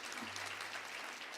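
Audience applause at a graduation ceremony for a health training centre, steady dense clapping filling the hall throughout without a break.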